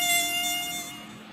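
A buzzing mosquito sound effect in an Indonesian children's storytelling piece: a thin, high, steady whine with a tonal hum that fades gradually over about a second and a half, heard alone.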